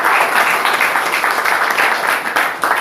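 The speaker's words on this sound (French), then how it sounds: "Applaudissons pour le Seigneur." Sustained applause from a church congregation, dense and even, with a slight pulsing rhythm as though some hands clap in time.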